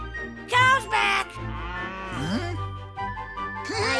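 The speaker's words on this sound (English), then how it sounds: "We got all the cows back onto your farm." Cartoon cows on a farm moo in several loud, drawn-out calls, with other vocal sounds and music layered around them.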